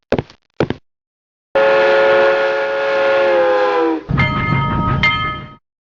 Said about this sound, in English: I could fall asleep to the train clinking along on the track